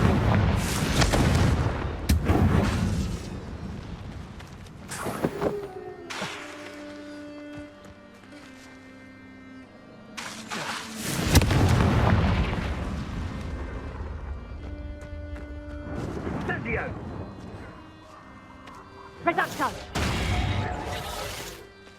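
Confringo spell explosions erupt in the video game Hogwarts Legacy as several loud, booming blasts at irregular intervals over rumbling battle noise and sustained game music, with voices at times.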